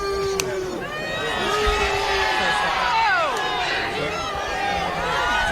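A street crowd at a public appearance by King Charles erupts into shouting and excited chatter after eggs are thrown, a dense, agitated roar of many voices, near and sustained.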